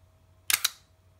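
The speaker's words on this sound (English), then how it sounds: "Now I release the shutter." Shutter release of a Nikon FM2/FE2 film camera with a sticking shutter, two quick close mechanical clicks in rapid succession in a quiet room with a faint hum.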